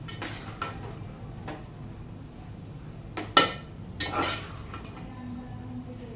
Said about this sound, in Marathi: सर्वांना एकजीव करून घेऊया.